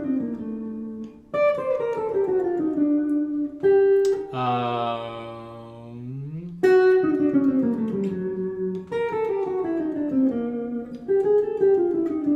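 A guitar plays a line beginning on the third of the chord: a steady, close melodic run of clear sustained notes with a brief bending, gliding passage midway, played alone without talk.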